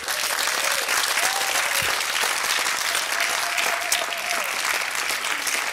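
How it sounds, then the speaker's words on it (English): Sustained applause from a large festival audience after a talk, steady and dense clapping throughout with a faint murmur of voices underneath. "can we have a huge round of applause?"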